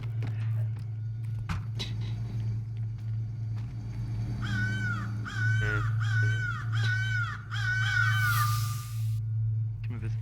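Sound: raven cawing in video game Secret Neighbor

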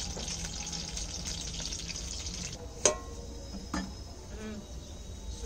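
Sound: two dried red chillies frying in oil

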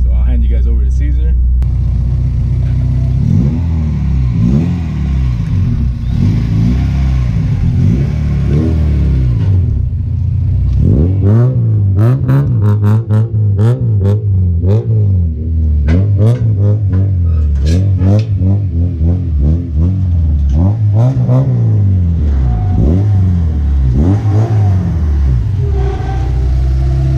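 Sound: Honda Civic EG hatch with H2B engine revving onto a trailer

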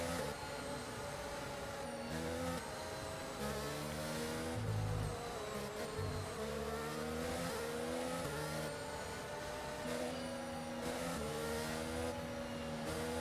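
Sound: race car engine in an F1 racing video game (Austria)

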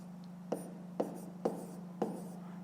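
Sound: writing numbers by hand

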